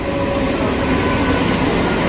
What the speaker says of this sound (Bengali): আর এই একটা ট্রেন যাচ্ছে শিয়ালদার দিকে, পুরো ফাঁকা।